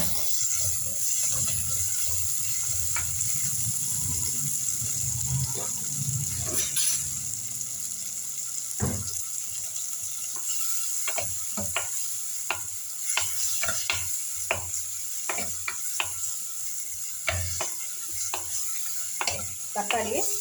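Tomatoes and green chillies sauté in a mud pot for a fish kuzhambu, with soft sizzling under repeated spoon scrapes and taps against the clay, some strokes close and crisp and others steady and rhythmic.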